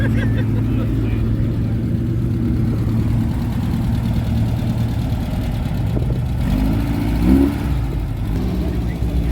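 A hot rod's engine idling with a deep, steady low rumble and a brief rev near the end, while people talk in the background.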